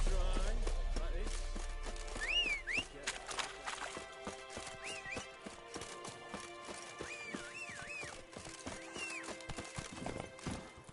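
Roach the horse galloping in The Witcher 3, a rapid, steady clip-clop of hooves at close range with occasional whinnies, set over game music and ambient sound.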